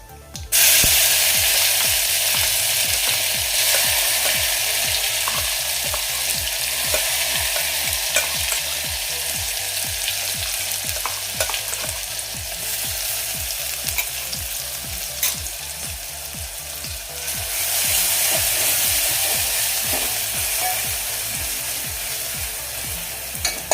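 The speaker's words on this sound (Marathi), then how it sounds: "आता यामध्ये आपण वाटण घालून घेऊया" Ground black gram (udad) spice paste hits hot oil in a pan over a low flame and is stirred. It gives a loud, steady sizzle with a constant frying hiss and rhythmic scraping throughout, and no talking.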